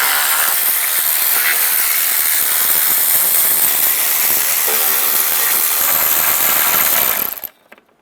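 A ratchet with an 8mm socket works loose intake bolts on a 2007-18 Jeep Wrangler engine, heard as dense, close clicking under a broad mechanical hiss that stops abruptly near the end.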